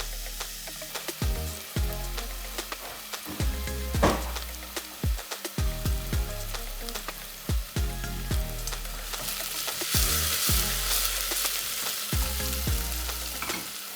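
Finely chopped onion sizzling in olive oil in a pan, a steady close frying hiss broken by repeated stirring scrapes and knocks.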